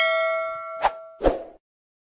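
Two bright notification dings, the second slightly louder, each a sharp metallic strike with a ringing tone that fades quickly before silence.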